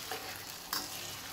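Brief scraping and stirring of fried rice with petai in a hot wok over a steady sizzle of frying food, close and alone.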